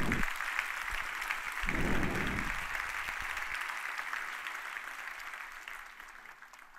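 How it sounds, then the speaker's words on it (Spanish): A church congregation applauds during a preacher's sermon, a soft distant wash of clapping that fades gradually, with low rumbling bursts near the start. "dale un aplauso al Señor, hermano"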